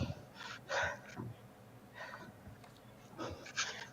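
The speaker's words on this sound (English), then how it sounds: "We heard you breathing." A person breathes heavily after running, with several loud, close, hissing exhales and gasps in irregular bursts, separated by quieter pauses.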